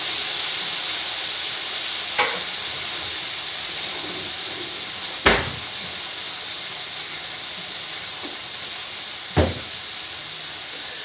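Taco potato filling frying in butter, oil and browned garlic in a pan, a constant hissing sizzle with three sharp spatula knocks against the pan spaced a few seconds apart, close by and without speech.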